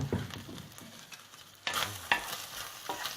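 Spices being stirred into minced poultry frying in a pan with thyme, a steady soft sizzle under scraping stirs and a couple of sharper clinks of utensil on pan, close and fairly quiet.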